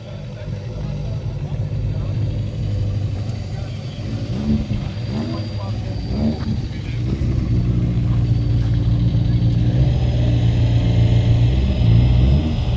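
Race cars sit in the pits at the Champs of Champions meeting, their engines droning steadily with rough idling and occasional revs, while someone talks over the din.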